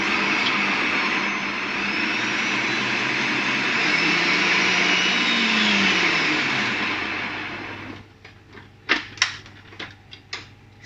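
Egg whites with cream of tartar being whisked give a steady, loud whirring whoosh for about eight seconds. The whisking then stops, and a few sharp, separate taps follow.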